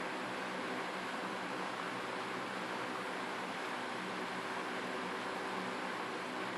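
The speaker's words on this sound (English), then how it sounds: "The sound you hear in the background is the fan." A steady, loud broadband whoosh of a mechanical fan runs unbroken throughout, with no other sounds and no talk over it, during a hydrogen tap test.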